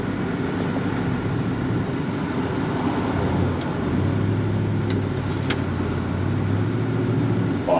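A 1966 Buick Skylark convertible's engine hums steadily from inside the cabin as it drives, with a low rumble and occasional faint clicks, no talking.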